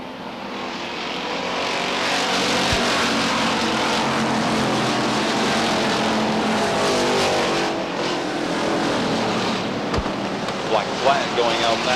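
Race cars roar around the track at Beech Ridge Motor Speedway in 1991, a dense, continuous engine drone that stays loud and steady throughout, with a couple of sharp clicks breaking through.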